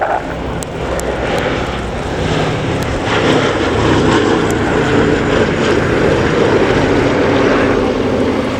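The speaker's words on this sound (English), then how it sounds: "This is Boeing B17G Flying Fortress" Boeing B-17G Flying Fortress "Sally B" four-engine propeller bomber at a display air show, its loud droning engines swelling steadily as it passes overhead with no talk.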